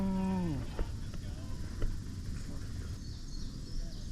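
A cow moos once, a clear falling low call in an outdoor field during an airsoft game, then fades under rustling ambient noise and faint activity.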